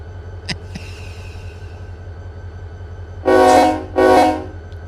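A freight train in the railroad simulator Run 8 pulls forward with a steady low engine drone, then two loud sustained horn blasts sound near the end.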